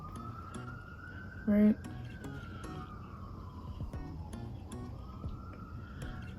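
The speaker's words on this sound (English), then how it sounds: "them fire trucks and them police cars just been going wild during the quarantine" Wailing fire truck and police car sirens sweep up and down in pitch continuously outside, moderately loud and steady, with a brief spoken word and a short tonal beep partway through.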